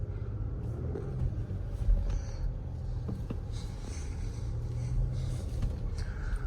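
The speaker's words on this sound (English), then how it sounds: "let's go for a quick drive in this 2023 Acura MDX Type S Advance" A 2023 Acura MDX Type S Advance with a 3-liter turbo V6 and 10-speed automatic cruising on the road, a steady low rumble of engine and tires filling the cabin, with occasional faint clicks and higher tones.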